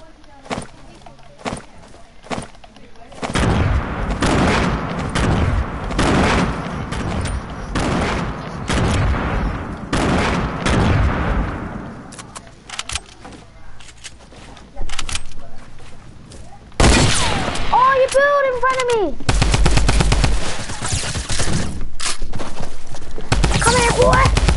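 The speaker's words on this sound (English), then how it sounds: "I'm gonna throw some nades over there." Video game battle with repeated loud gunshots and grenade blasts, first a dense run of shots, then scattered pops, and later a sustained roar of explosions and fire, with people talking excitedly over it.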